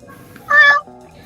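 A person's voice imitates a cat, giving one short, close, drawn-out meow in the middle, with quiet background noise before and after it, during an online tabletop role-playing session.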